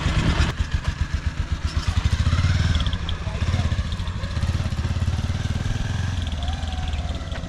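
A motorcycle rides a winding Himalayan mountain road in Nepal, its engine droning close and steady throughout with a pulsing, chugging beat. It revs up strongly early on and then holds a loud, continuous throb.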